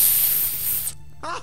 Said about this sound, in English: taking out my little can of mace